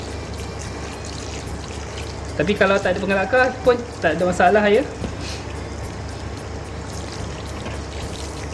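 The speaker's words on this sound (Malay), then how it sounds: "Kita boleh tuang kita punya air lah. Ratakan air siraman, air yang kita letak penggalak akar tadi." Water poured onto compost and planting medium splashes and trickles in a short burst of a couple of seconds, with someone talking over it and a steady background hum.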